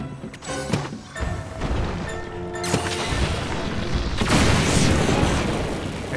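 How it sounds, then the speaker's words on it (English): Rocks hurled by an enemy crash and smash repeatedly in Zelda: Tears of the Kingdom, loud impacts and rumbling booms layered over game music, building into a dense crashing roar toward the end. "But he's still shooting rocks, though."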